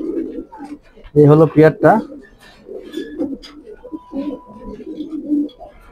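Pigeons, a pair of light-coloured birds kept in a loft, coo in a short rolling burst, fairly close, with a person talking over and around the calls.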